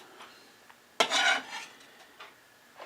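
Garlic dropped into hot sesame oil in a pan for Korean chicken wings, a sudden sharp sizzle that flares up loudly, then fades into softer crackling and a few scraping kitchen sounds.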